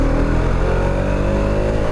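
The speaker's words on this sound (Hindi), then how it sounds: "सो यहाँ पे हम थोड़ा सा बाइक को पुल करके देख सकते हैं।" A Hero Xtreme 250R motorcycle engine is pulled hard and revs upward, its loud, close mechanical drone rising steadily in pitch for about two seconds with no talking.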